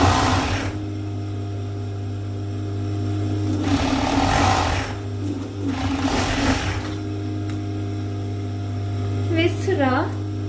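A three-thread overlock sewing machine stitches ring-shaped ribbed sleeve cuffs onto a child's tracksuit, giving a steady close mechanical hum throughout while someone talks over it.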